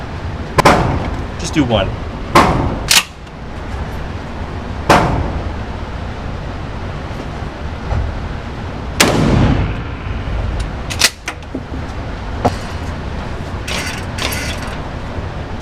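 Shotgun blasts fired at targets 15 yards away, several sharp, loud, separate reports with mechanical clacks of the action between shots and brief speech in the gaps.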